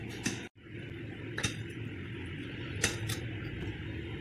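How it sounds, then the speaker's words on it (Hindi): Karahi ingredients stirred in a pan with salt, a few light metallic scrapes and clinks from a spoon over a steady background hum, close and fairly quiet. "अब इसको अच्छी तरह से मिक्स कर लेंगे।"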